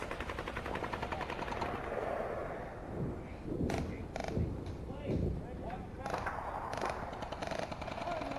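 Video game gunfire cracks through trees, with rapid bursts and scattered shots at moderate distance, all under steady ambient noise.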